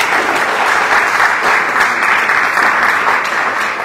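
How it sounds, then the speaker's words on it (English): Steady applause from an audience at a New Mexico governor's press briefing on a quantum computing partnership, dense and even for several seconds with no talk over it. "Everyone should be clapping."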